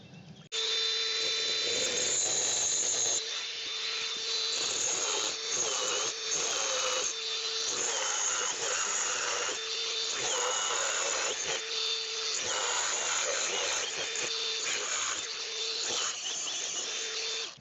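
A loud, steady power drill grinding into granite and concrete, running continuously with a high whine and brief dips in pitch throughout.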